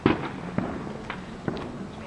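Fireworks at a 2011 show burst in four sharp, distant-sounding bangs spaced roughly half a second apart, each a brief crack with a short rumble trailing after it, heard with no talking.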